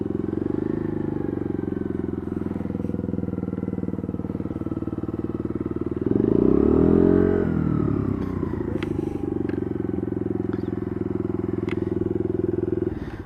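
A Bullit Hero 50cc motorcycle idles steadily up close, its small engine droning evenly before a brief rev rises and falls midway as the bike is moved and parked.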